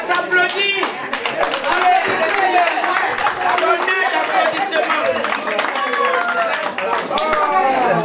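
A crowd at a diaspora awards gala in Paris applauds a laureate, with sustained, dense clapping continuing throughout while a voice speaks over it and chatter mixes in.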